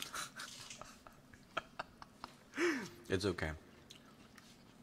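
Someone eats a taco, with soft wet chewing and a few crunchy bites close to the microphone, interrupted by short bits of speech.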